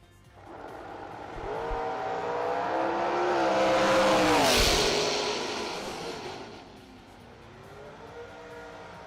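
A dragster at a drag-racing event roars past, swelling from distant to loud and then fading, a harmonic engine scream with a sharp peak near the middle of the pass.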